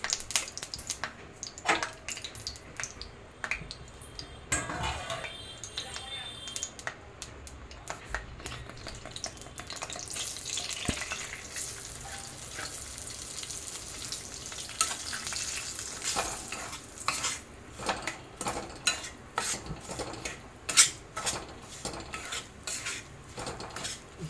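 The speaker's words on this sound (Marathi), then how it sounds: "आता आपल्याला साबुदाण्याची पेस्ट ही तुपामध्ये भाजून घ्यायची आहे" Sabudana paste roasts in ghee in a kadhai, a continuous sizzle punctuated by frequent metallic scrapes and clinks of a spoon against the wok, close and steady with no speech.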